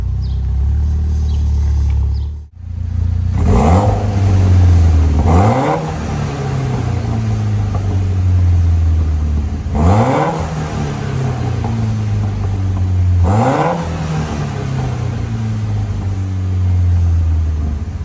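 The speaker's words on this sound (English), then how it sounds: "So basically this is my exhaust right now, cut back, but the muffler it's complete right there" A Mitsubishi Lancer Evo X MR engine with a cut-back exhaust and a complete muffler revs in a shop, rising in four loud, repeated sweeps over a steady idle rumble, with no talking.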